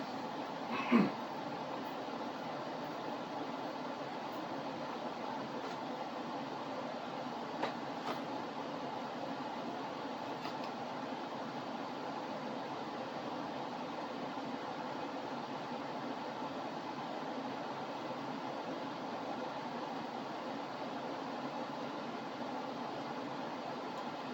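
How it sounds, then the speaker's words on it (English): A room air conditioner runs throughout with a steady, unchanging broadband whoosh and hum, fairly quiet and constant for the whole stretch, with only a couple of faint clicks and no voices. "Sorry about the noise from the air conditioner if you can hear it"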